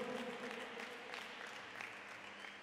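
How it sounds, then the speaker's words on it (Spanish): Faint, distant audience applause at a basketball club's season presentation, a soft steady patter of many hands that slowly tapers off. "Otro fuerte aplauso, por favor"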